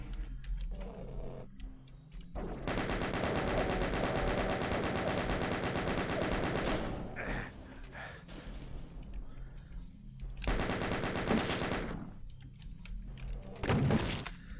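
Rapid automatic gunfire from a video game in a creepy custom WAD level, loud, dense bursts ringing out for several seconds, then shorter volleys and isolated shots with brief quieter gaps, no talking.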